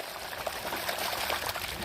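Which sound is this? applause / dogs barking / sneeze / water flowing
water flowing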